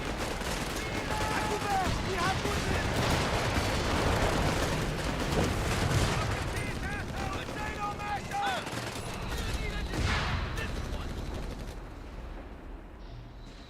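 Dense battlefield gunfire and artillery from the real-time strategy game Company of Heroes 3 roar continuously under a commentator's voice, with overlapping bursts of machine-gun fire and booming impacts that ease slightly toward the end.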